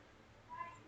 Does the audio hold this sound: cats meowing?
yes